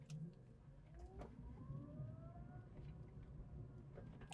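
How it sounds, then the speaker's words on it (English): Electra Meccanica SOLO single-seat electric car driving in town traffic, its electric motors giving a steady rising whine over road and cabin rumble, with no talking. "You can really hear the whine of the electric motors."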